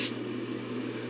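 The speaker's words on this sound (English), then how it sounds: "Again, spray my roots." A brief hiss of hairspray aimed at hair roots bursts out at the start, then trails into a quiet, steady background.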